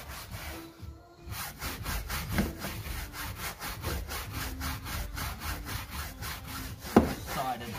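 Stiff brush scrubbing the upholstery inside a 2007 Suzuki Swift Sport, a steady back-and-forth rasping rhythm of close, repeated strokes with one sharper knock near the end.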